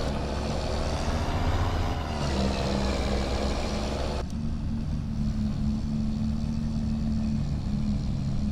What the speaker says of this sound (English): This is a loud truck